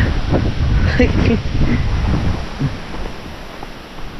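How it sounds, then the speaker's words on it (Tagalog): Strong wind roars steadily into the microphone, a dense low rumble with gusts, while someone talks over it. "ang lakas ng hangin!"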